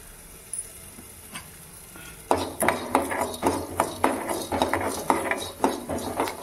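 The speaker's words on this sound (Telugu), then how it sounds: "ధనియాలు వేగాక మనము మెంతులు కాస్తంత, జీలకర్ర, మిరియాలు అన్నీ వేసి వేయించుకుంటాము." Whole spices (coriander, fenugreek, cumin and black pepper) roast in a pan for a sweet pumpkin curry, giving a steady dry rustle and scraping with repeated stirring strokes, quiet at first and then close and busy.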